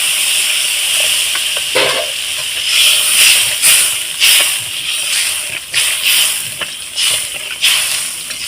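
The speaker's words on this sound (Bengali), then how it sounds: "আমার গ্রেভিটা ফুটে উঠেছে" Fish curry gravy made with meat masala and warm water boils in a pan on the stove, giving a steady close hiss with irregular bubbling bursts and soft pops throughout.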